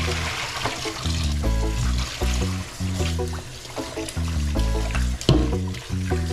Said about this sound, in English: I'm going to go ahead and wash the oxtail and then soak it in a little vinegar water